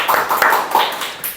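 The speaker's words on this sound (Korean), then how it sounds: "자축의 박수 한번." A small group applauds in celebration at a corporate insurance sales training session, a short burst of several close claps over about a second and a half with no talk.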